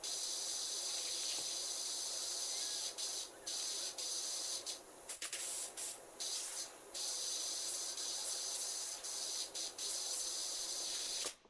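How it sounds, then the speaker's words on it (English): A pressure washer sprays steadily in PowerWash Simulator 2, cleaning a gas station with a play area, a loud continuous hiss that runs almost unbroken, briefly dipping and stuttering as the trigger is released and pressed again. "Start spraying it all down."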